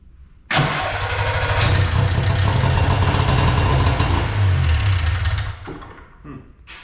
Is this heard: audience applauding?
no